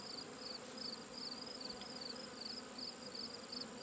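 Honeybees in an opened hive, stirred up after a stuck frame was pulled from the upper box, give off a steady, faint, close droning buzz with a thin, wavering whine layered over it.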